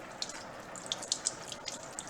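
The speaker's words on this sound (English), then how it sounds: "I'm going to rinse it off under the filtered water here." Meat is rinsed under filtered tap water in a kitchen sink, a steady close splashing flow with irregular brighter spatters and drips as the water hits the meat.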